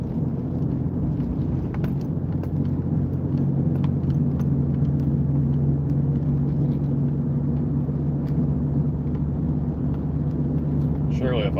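A car drives along the road, heard from inside as a steady, loud low rumble of road and engine noise, with a brief voice near the end.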